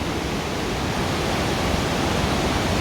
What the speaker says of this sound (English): Dawson waterfalls